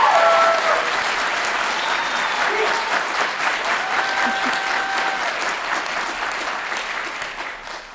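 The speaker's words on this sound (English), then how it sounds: "Now you can applaud." Auditorium audience applauding at a university state-of-the-university address, steady dense clapping held loud for the full stretch and easing slightly toward the end, with a few faint voices mixed in.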